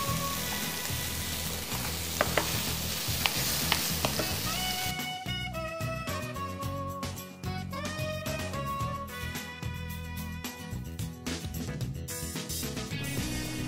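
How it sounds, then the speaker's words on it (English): Rendang paste sizzles and fries steadily in a pan as coriander and bay leaf go in, a close, continuous crackle with light stirring, backed by music that grows fuller partway through. "Now we're gonna put in the coriander and the bay leaf."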